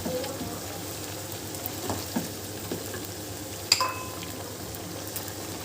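Chicken karahi sizzling and frying in oil in a dhaba-style pan, a steady close hiss with soft stirring scrapes and a light clink, no talk.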